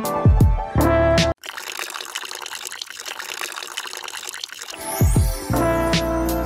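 Brewed coffee is poured from a container into filled coffee filters while wood stain is made, giving a steady splashing trickle in the middle, framed by louder clattering handling noises at either end.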